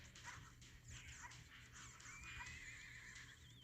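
A horse in a video game whinnies, a high wavering neigh rising and falling over a few seconds, faint and alone over a low background hum.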